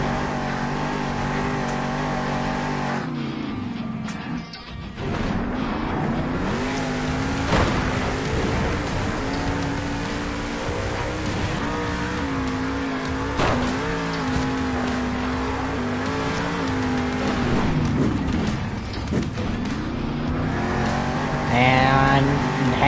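A monster truck engine at a Monster Jam show in Salt Lake City revs and roars loudly, rising and falling in repeated surges under a commentator's voice.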